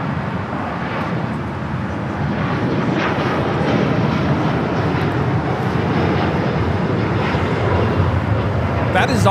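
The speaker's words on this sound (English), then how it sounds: "125 taking off to Tokyo Haneda on the 787-9 Dreamliner." An All Nippon Airways Boeing 787-9 Dreamliner takes off at LAX, its engines giving a steady, powerful broadband roar that grows slightly louder across the span, with faint talk underneath.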